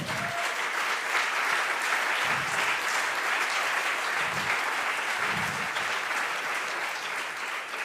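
A conference audience applauds in a sustained, dense burst of clapping that carries on evenly for several seconds, loud and close, with no talking over it.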